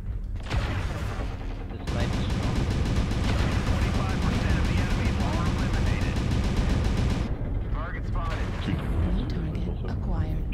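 Sustained rapid weapon fire from giant robot combat in MechWarrior Online, a dense roaring barrage of autocannon bursts and explosions that cuts off abruptly, followed by scattered blasts while players talk over it.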